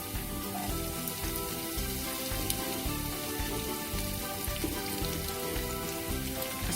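Onions hit hot oil for moong dal and crackle in a dense, continuous sizzle, steady and close, with no voices over it.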